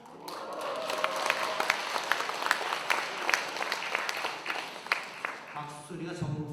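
A Catholic parish congregation at the Easter Vigil Mass applauds, quick overlapping claps rising to a steady patter with sharp individual hits, then tapering off as a voice speaks at the end.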